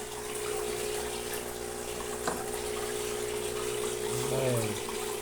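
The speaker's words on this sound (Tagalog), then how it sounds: "Hoy, mapaw na pala ang tubig dito." Water overflows from a filling tank, a steady broadband rush and splash running throughout. A brief knock sounds midway and a short low tonal sound comes near the end.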